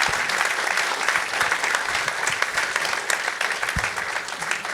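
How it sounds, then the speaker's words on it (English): A panel discussion audience at a Chicago executives' event breaks into sustained, dense applause, steady and fairly loud throughout with no speech over it. "let's give this panel a round of applause."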